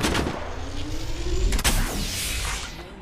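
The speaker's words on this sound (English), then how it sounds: "They're shooting at me!" Heavy gunfire in the mobile battle royale game Apex Legends Mobile on Android, with loud booming shots near the start and a sharp burst around the middle, ringing out over continuous battle noise.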